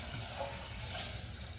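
Tap water runs steadily while quinoa is rinsed in a kitchen, a close, soft gushing flow lasting the whole moment without speech.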